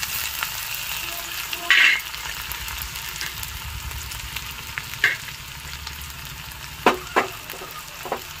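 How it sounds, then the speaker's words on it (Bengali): Chopped onion and garlic fry in hot oil in a wok for cabbage Manchurian. A continuous close sizzle carries a few sharp spoon or utensil clicks scattered through it, and no one speaks. "তো আমি কড়াইতে তেল দিয়ে দিয়েছি, তেল গরম হয়ে গেছে। এবার দিয়ে দেবো পেঁয়াজ কুচি"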